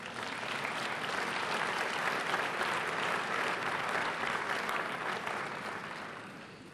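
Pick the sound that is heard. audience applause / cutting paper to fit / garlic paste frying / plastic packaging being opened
audience applause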